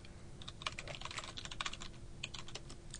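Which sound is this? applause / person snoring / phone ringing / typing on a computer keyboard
typing on a computer keyboard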